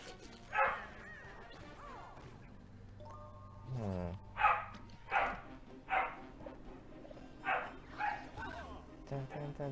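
A dog barks repeatedly, a series of sharp, medium-distance barks spaced a second or so apart, mixed with a video game's chiming and sliding effects and a person talking.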